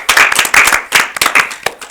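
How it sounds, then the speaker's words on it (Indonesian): A small group claps their hands in quick, uneven bursts, close and lively, with the applause rising and breaking off several times within a couple of seconds. "Tepuk tangan untuk kita semua."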